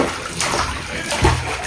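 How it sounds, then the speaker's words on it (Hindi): A child splashing in a bathtub at home: continuous sloshing and splattering water, close and full, with a heavier splash near the end and faint voices mixed in. "टब में डुबकी लगा रहे हैं"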